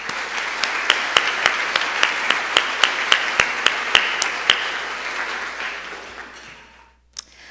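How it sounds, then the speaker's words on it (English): Audience applause at a university legacy banquet, a broad steady wash of clapping with a few sharper individual claps standing out, fading away after about six seconds into near silence and one last clap. "Please join me in a round of applause for their remarkable dedication."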